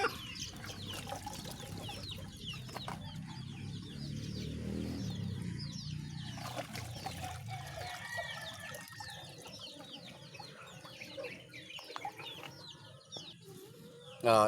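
Backyard hens and a rooster during bath time cluck and call repeatedly at close range, with a murmur of water early on and occasional crowing in the mix.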